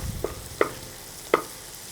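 A spoon stirs onions and coriander powder in a pan for a Kerala-style beef roast, giving three soft scraping taps over a faint background.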